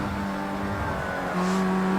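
A race car in Project CARS 2 accelerates with a close, buzzing engine note that climbs in pitch, then drops at a gear change and pulls again slightly louder.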